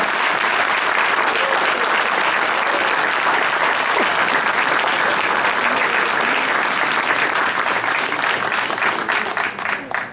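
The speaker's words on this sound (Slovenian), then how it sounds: "Iskrene čestitke in zmagovalni aplavz." An audience at an innovation awards forum claps steadily and fairly loudly for a winning entry, a dense wash of hand claps that keeps going and fades slightly at the end.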